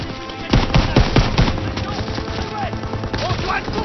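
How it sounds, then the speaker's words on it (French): Machine gun fire crackles in World War II combat in Call of Duty: WW2, with rapid bursts of close, loud shots and scattered gunfire under a battle din that tapers into rumble. "Vous devez faire taire cette mitrailleuse."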